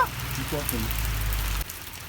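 Heavy rain pours down in a dense, steady hiss that continues for the whole stretch, with a voice briefly speaking near the start over the downpour.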